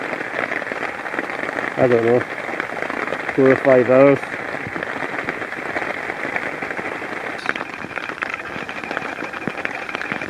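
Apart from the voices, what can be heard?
heavy rain falling on a hammock camp in Scotland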